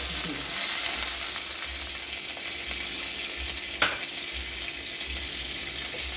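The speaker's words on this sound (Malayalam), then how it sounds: "ചട്ടി ചൂടായി, നമുക്ക് ഇച്ചിരി വെണ്ണ അങ്ങോട്ട് ബട്ടർ അങ്ങോട്ട് ഇട്ട്" Butter sizzles and spatters in a hot clay pot as the tempering for rasakalan begins, a steady close frying hiss with soft stirring sounds and one sharp clink partway through.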